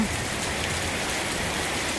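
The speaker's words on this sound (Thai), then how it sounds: "ฝนตกค่ะ" Steady rain pours down during a flood, a dense continuous hiss of drops on surfaces with a low rushing of water underneath, even and unbroken throughout.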